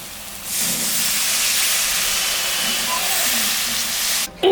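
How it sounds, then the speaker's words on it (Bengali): Water poured into frying masala in a pan for a prawn curry sets off a loud, sudden steam hiss that swells and holds steadily for several seconds before a brief clatter at the end. "এখন আমি সামান্য জল দেব"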